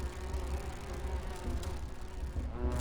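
A swarm of bees buzzing in the adventure game Grim Fandango Remastered, a steady, low droning hum that holds evenly throughout at moderate loudness.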